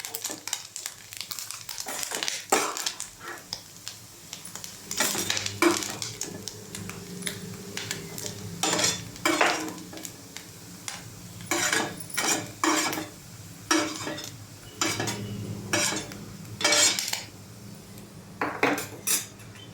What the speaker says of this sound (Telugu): కొబ్బరి కూడా కొంచెం సేపు ఫ్రై చేసుకుందాం